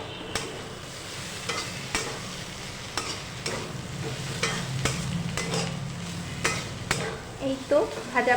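Bottle gourd peel frying in a pan with a steady low sizzle, stirred by a utensil that scrapes and knocks sharply against the metal at irregular intervals, near and fairly loud, with no talk.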